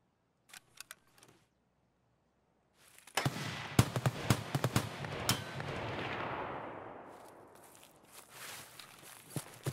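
Gunfire in Escape from Tarkov: a few faint shots early on, then a loud volley of sharp cracks with a rolling echoing tail, followed by more scattered shots.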